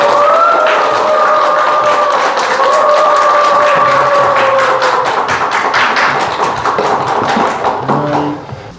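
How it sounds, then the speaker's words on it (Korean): An audience at a Korean religious gathering applauds loudly and continuously to welcome a senior speaker, dense clapping running for about eight seconds before tapering off, with a musical tone sounding over it at the start. "큰 박수로 환영해 주세요"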